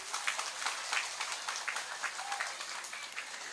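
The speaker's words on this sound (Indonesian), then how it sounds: "tepuk tangan dingin." Faint applause from a gathering at an afternoon religious study session, a steady patter of many hands clapping at a distance, soft and even throughout.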